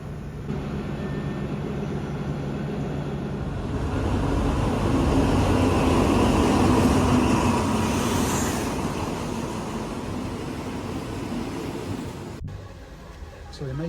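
A train arrives at a quiet Thai railway station on the Death Railway near the River Kwai, a broad rumbling roar swelling and then fading, steady and fairly loud, with faint voices mixed in.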